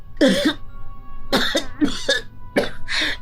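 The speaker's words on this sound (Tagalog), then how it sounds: "nahihirapan akong huminga kapag po inuubo ako." Several harsh coughs from someone with a blocked nose and difficulty breathing come in quick bursts with short pauses between them, close and fairly loud.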